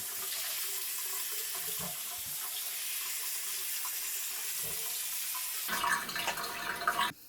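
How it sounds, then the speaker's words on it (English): Cold tap water runs steadily into a kitchen sink while crab noodle soup is being prepared, a continuous near splashing that gets louder and harsher near the end as the flow hits something, then stops. "Cold water running here."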